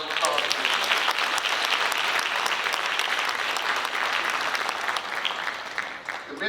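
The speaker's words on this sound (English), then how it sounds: "Can we give Ms. Hightower another round of applause, please?" Sustained applause from an audience at an urban league graduation ceremony, dense steady clapping filling the room for several seconds before easing slightly at the end.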